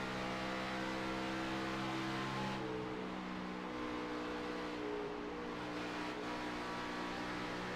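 Race cars roar steadily along an oval dirt track in a Texas scrambler series race, a dense continuous engine drone with a passing surge midway, heard from a distance without talk.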